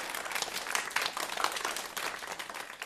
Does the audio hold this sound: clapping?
yes